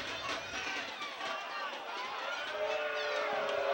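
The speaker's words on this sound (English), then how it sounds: "there you hear the reaction from the crowd as another unfavorable spot leaves Case in a third and one" A college football crowd at a Case Western Reserve versus Wittenberg game reacts to a ball spot with a steady, loud roar of many voices that holds for several seconds, swelling slightly toward the end.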